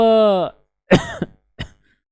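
A harmonic vocal sound trails off, then two or three short, harsh coughs follow in quick succession, close and fairly loud.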